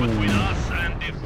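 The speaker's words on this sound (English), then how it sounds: "here comes the Katyusha. So that is not the best on the first volley." Katyusha rocket artillery firing a volley in Company of Heroes 2, a dense rumbling barrage with booming low end that fades out over about a second, with game voices talking over it.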